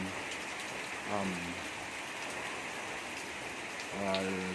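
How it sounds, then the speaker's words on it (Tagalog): Heavy rain pours steadily in a constant hiss, with a couple of brief voice-like sounds rising faintly over the downpour. "Dito ang lakiban o lakas ng tubig o lakas ng ulan"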